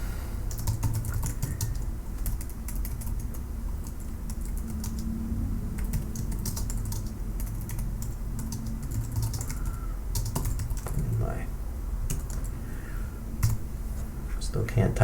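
A computer keyboard being typed on steadily in a dense stream of light key clicks throughout, with a low hum and faint room noise underneath.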